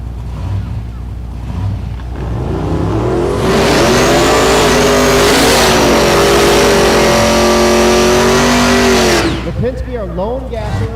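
A gasser drag car launches down the track at Thunder Valley in Noble, Oklahoma, its engine climbing to a loud sustained roar for several seconds before cutting off, with a track announcer talking over it.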